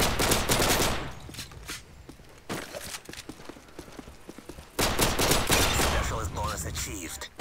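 Video game gunshots from Quartz come as loud rapid bursts at the start and end, with a quieter stretch between them. Some speech is faintly present.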